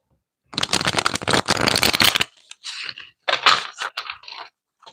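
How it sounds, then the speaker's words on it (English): Tarot deck being riffled and shuffled by hand, a dense fluttering run of card flicks followed by several shorter choppy bursts, close and crisp with no talking. "One more shuffle, y'all."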